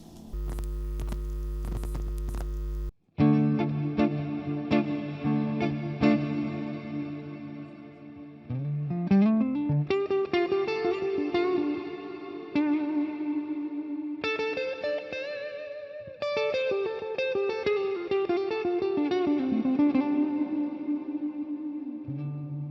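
Percussion played through a hall reverb effect, with struck tones ringing into long, smooth decaying tails that overlap. A sustained low hum sits under the opening seconds before the reverberant hits take over.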